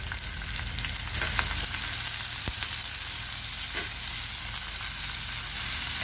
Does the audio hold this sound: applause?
no